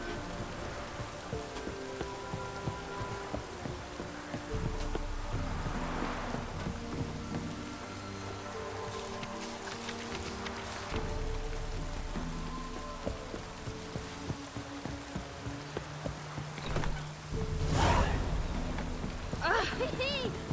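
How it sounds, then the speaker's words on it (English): Light drizzling rain patters steadily through an outdoor scene in The Witcher 3, a soft continuous wash running the full length with a brief louder swell near the end, while speech and game sounds come and go over it. "Oh, it's drizzling."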